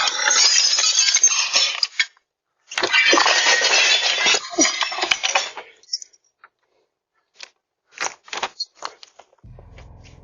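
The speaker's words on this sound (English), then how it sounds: "an unknown man walks up to the homeowner's front door and smashes out 3 small windows with his bare hands" A man punches out three small glass windows in a house's front door with his bare hands, giving loud bursts of shattering and tinkling glass followed by scattered smaller clinks and crunches of falling shards.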